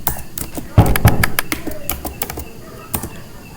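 A sudo command typed on a computer keyboard: close, irregular clicking keystrokes in quick bursts with short pauses between them.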